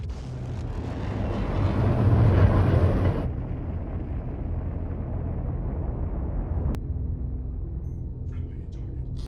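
Size 12 torpedoes fired at a Cutlass Black ship in the Star Citizen game make a broad, swelling roar that cuts off abruptly, followed by a lower, steady rumble.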